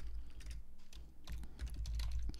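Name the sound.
typing on a computer keyboard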